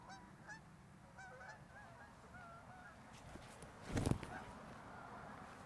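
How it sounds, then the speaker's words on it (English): A flock of geese honk at a distance outdoors, repeated high calls over a low rumbling background, with one brief louder thud partway through. "should I hit those geese?"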